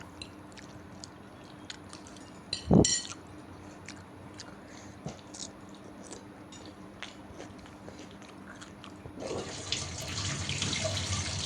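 Dishes and bowls being washed in a kitchen sink, with sporadic clinks and a sharp clatter near the start, then running tap water gushing steadily through the final seconds, close and moderately loud.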